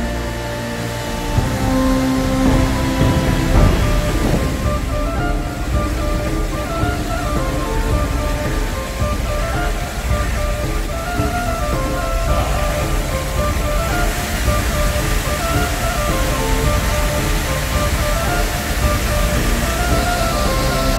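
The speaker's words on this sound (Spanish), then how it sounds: "Espectacular la cascada." The Fuentona waterfall roars as a loud, steady broadband rush of falling water that fills the whole stretch without pause, with faint voices now and then beneath it.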